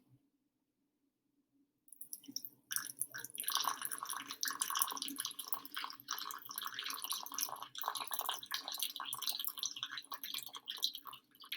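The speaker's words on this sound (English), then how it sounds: "That water was pushing the sand because it was being poured at a higher rate" Water poured from a height onto sand in a clay, water and sand landform demonstration, a steady splashing, trickling wash starting after a quiet two-second lead-in and continuing close and fairly loud.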